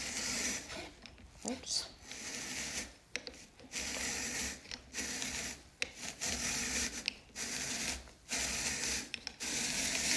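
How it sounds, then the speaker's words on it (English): A hand-cranked apple peeler corer slicer working through an apple, a steady close rasping, scraping drone in repeated strokes with brief pauses between turns, and a voice briefly speaking once. "And that peels and cores and slices my apple."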